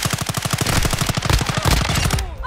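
Sustained automatic gunfire in the video game Call of Duty: Modern Warfare II hammers out as a loud, close, fast rhythmic stream of shots that barely pauses.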